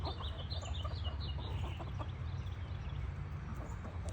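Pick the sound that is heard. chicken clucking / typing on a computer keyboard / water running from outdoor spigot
chicken clucking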